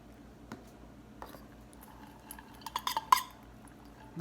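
Remaining cheese being mixed with crème fraîche in a bowl, with quiet scattered scrapes and clinks of a utensil against the bowl that grow a little busier toward the end, close but faint, no voices.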